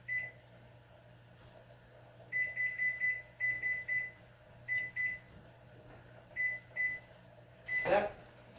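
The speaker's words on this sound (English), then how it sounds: "Timer on." A kitchen-style timer beeps in short repeated bursts of two to four tones, fairly near and clear, as it is set for thirty minutes while steaming hornbeam wood for bending; a brief rustle or clunk follows at the end.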